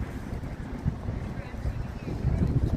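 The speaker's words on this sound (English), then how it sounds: "It's windy here today." Wind buffets the microphone at an outdoor chuckwagon cookoff, a steady low rumble with gusty swells and no voices clearly heard.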